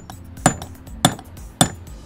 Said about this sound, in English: We're going to knock that pin down as far as we can.